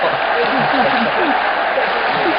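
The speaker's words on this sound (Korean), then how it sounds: "여러분 박수!" An audience at a special lecture on surviving the AI era claps to welcome the guest speaker, a dense, steady wash of applause lasting a couple of seconds with a voice talking over it.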